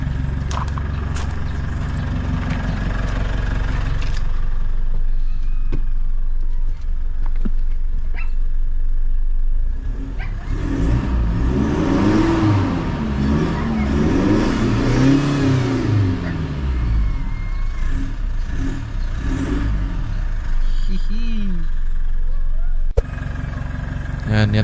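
Mitsubishi Strada pickup fitted with a full aftermarket exhaust, idling close by and then revving hard in swelling bursts through the middle before settling back, while people talk nearby.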